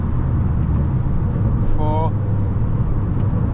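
A five-speed manual car cruising on a motorway in fifth gear, its engine droning steadily with road rumble throughout. A brief whining tone rises in the middle, and someone speaks a few words over the noise.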